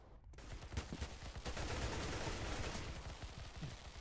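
Gunfire in Counter-Strike: Global Offensive crackles as a fast string of sharp, close reports over a dense, noisy game background, with no talking.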